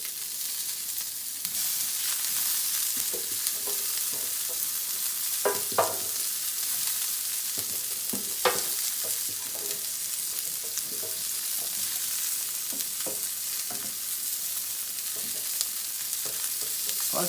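Asparagus spears sizzle in hot oil in a pan, a steady bright hiss throughout, with scattered pops and a few soft clinks and scrapes as spears are added and shifted, close and continuous.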